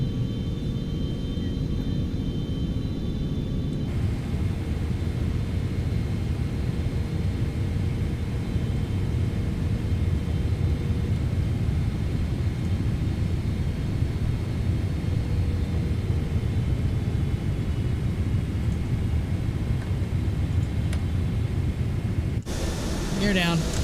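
PMDG 777 airliner landing in a flight simulator game, a continuous broad engine and airflow roar with low rumble, steady throughout, then a sudden change near the end.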